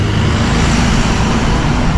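A lorry rumbles past on a narrow country road in the village of Southrepps, North Norfolk, its steady low engine drone and road noise filling the clip at close range with no talk.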